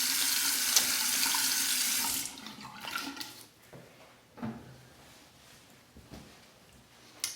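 Tap water runs steadily into a sink for about two seconds, then stops, followed by quieter splashes and dripping as a face is rinsed after a shave with an open comb slant bar razor.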